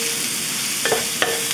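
Onion frying in a pan for a poha and potato pie, a steady soft sizzle with two short stirring scrapes near the end, close and fairly quiet, no talking.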